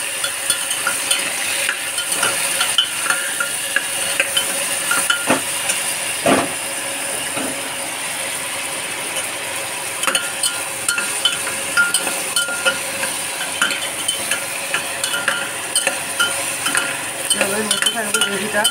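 Onion, green chili and tomato frying in a pan for a cauliflower and potato curry, a long, steady hiss with scattered clicks and scrapes of stirring throughout.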